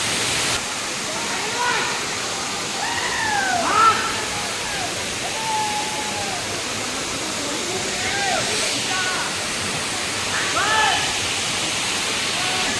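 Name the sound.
Tentheinali waterfall, Telkoi, water falling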